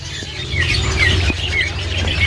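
Bright bird chirps and whistles from several oriental magpie-robins overlap over a steady low hum at a bird market stock, fairly close and continuous.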